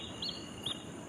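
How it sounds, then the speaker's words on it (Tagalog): At night beneath an old bridge over a river, a bird gives two short, sharp high-pitched calls in quick succession over faint background hiss. "Lakas naman ng ibon na yun."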